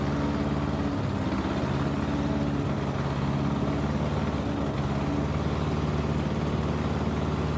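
Zenith STOL SkyJeep light aircraft on snow skis running above idle at roughly 2,000 RPM, a steady, dense engine drone with constant low harmonic hum filling the whole stretch, close and unbroken, no voices.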